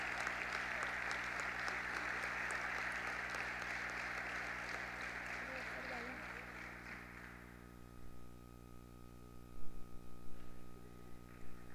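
A crowd at a high school graduation ceremony applauds steadily for about seven seconds, then the clapping fades out, leaving a quiet hall with a low hum and a few faint sounds.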